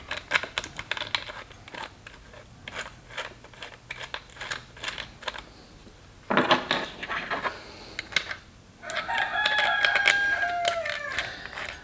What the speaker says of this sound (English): I'm gonna have Brewster for dinner if that thing keeps crowing.